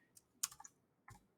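Typing on a computer keyboard, a few faint, sparse key clicks in a quiet room with short pauses between them.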